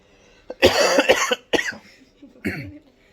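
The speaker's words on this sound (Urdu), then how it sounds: "لگتا ہے مجھے آج تھوڑی سی کھانسی ہے" A few harsh coughs close to the mic: a cluster of rapid hacking coughs, a short pause, then two more separate coughs.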